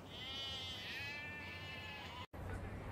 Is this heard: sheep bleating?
yes